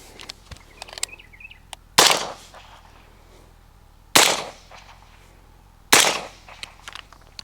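Rifle fitted with a Griffin Armament HRT 556 3D-printed suppressor firing three single shots about two seconds apart, each a sharp loud crack with a short tail, with faint outdoor clicks and birds in between.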